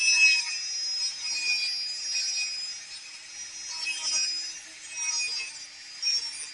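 A small high-pitched rotary tool whines steadily while its coarse sanding drum grinds against an Old West prop, the pitch wavering slightly as pressure changes.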